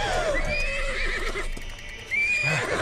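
A pony in a cartoon whinnies twice, a loud high neigh with a wavering tail at the start and another near the end, close and clear with no talk over it.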